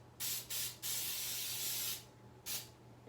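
Cooking spray hisses into a cake pan for carrot cake in a series of bursts: two short sprays, a long steady one, then a final short burst, close and alone against a faint low hum.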